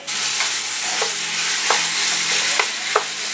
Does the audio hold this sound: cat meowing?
no